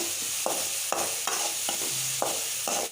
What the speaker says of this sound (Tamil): வெங்காயம் நல்லா பொன்னிறமாக வர அளவுக்கு நல்லா வதக்கி எடுத்துக்கோங்க